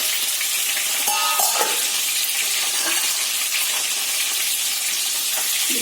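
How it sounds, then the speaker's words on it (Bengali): Parshe fish fries in hot oil in a pan, giving a loud, continuous sizzle with crackling spatters and occasional scraping as it is turned. "মাছটা দুপাশ লাল লাল ভাজা হয়ে গেছে।"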